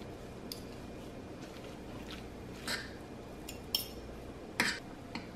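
Forks pulling apart tender slow cooker pulled pork, giving soft squishy tearing and a few light metallic clinks against the dish, faint and close, with sharper taps near the middle and end.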